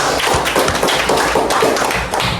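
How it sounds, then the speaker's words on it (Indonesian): Classroom applause for classmates, a brisk burst of many hands clapping in a fast irregular patter, close and lively, continuing for a couple of seconds. "Tepuk tangan dulu untuk teman-temannya."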